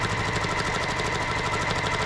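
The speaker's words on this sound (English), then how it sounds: "And then just keep sewing down the end" A sewing machine runs steadily while stitching binding down the edge of a quilt, giving a fast, even mechanical whir with a rapid pulsing rhythm that holds at constant loudness throughout, close up and with no talking.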